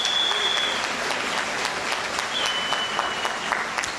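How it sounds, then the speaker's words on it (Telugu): Audience applause at a forest department boot camp session in Warangal, a dense steady clapping from a crowd lasting the whole stretch, close and fairly loud with no break. "గట్టిగా చప్పట్లు కొట్టచ్చు కదా"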